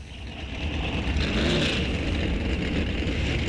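Powerful Super Gas drag racing car engines rumble steadily nearby at an NHRA event, a deep continuous roar that swells slightly as the cars roll forward to the starting line.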